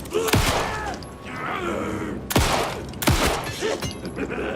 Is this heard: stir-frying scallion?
no